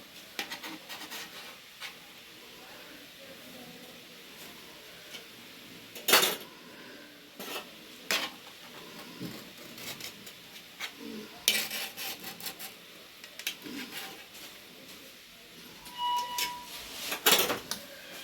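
A spoon scrapes and lifts pieces of rui fish kebab in a pan, with several sharp scraping strokes standing out over a quiet, faintly sizzling background.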